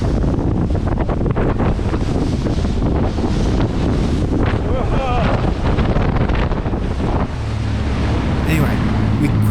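Strong sea wind buffets the microphone in loud, continuous gusts, with rough water and waves churning underneath from out on the ocean during a windy boat trip.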